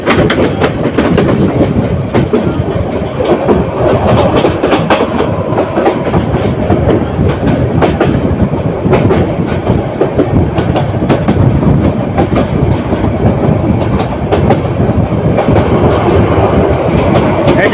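An express train rumbles past Dhaka Tejgaon railway station loudly and steadily, a continuous dense roar with faint rhythmic clatter of wheels on rails, no voices.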